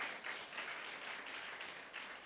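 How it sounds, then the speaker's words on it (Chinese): Faint applause from a church congregation at a prayer revival meeting, a soft continuous wash of clapping heard from a distance and steady for a couple of seconds. "掌声归给上帝"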